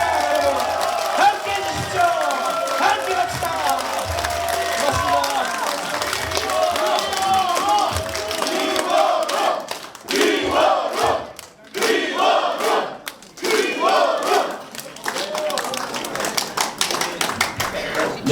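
A crowd at a Korean political party's campaign office opening claps and cheers loudly and continuously, with shouts rising over the applause and some talk mixed in.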